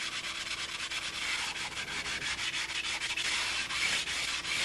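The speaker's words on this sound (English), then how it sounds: "This is about how long I would be sanding each side." Continuous rasping of sandpaper rubbed back and forth on wood, steady and close, with a quick scratchy rhythm and no talking.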